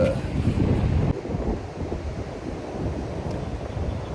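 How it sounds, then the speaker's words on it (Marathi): Sea waves and wind at the beach in Alibaug, a steady broadband wash of surf and gusting air buffeting the microphone, fairly loud and continuous with no talk. "हा समुद्र"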